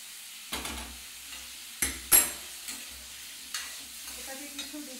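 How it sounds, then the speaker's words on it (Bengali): Tomato and potato frying in hot oil in a home kitchen pan, with a few sharp spatula scrapes and clinks over a low, steady sizzle, close and moderately loud, no talking. "টমেটো আর আলুটা তেলের মধ্যে ভেজে নিচ্ছি।"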